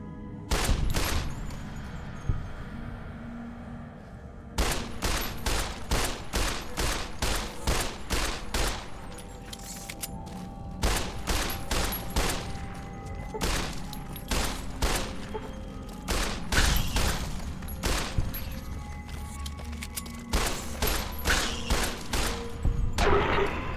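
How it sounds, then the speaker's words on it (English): Submachine gun fire in Fallout: New Vegas, rapid bursts of loud automatic shots in repeated volleys separated by brief pauses, continuing steadily throughout. "A submachine gun."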